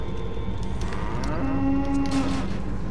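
A cow in the video game Goat Simulator lets out one long, low, loud moo in the foreground against a steady game background hum.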